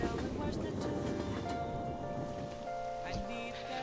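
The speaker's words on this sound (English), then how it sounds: "When's the rain gonna let up?" Steady rain falls in the Persona 5 Royal video game on a Shinjuku street at night, a soft continuous patter heard faintly beneath music and voices.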